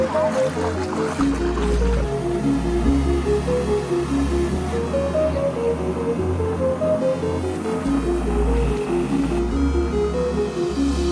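A speedboat engine drones low and steady while the hull thumps over water off Pattaya, Thailand, with a melodic tune playing over the top.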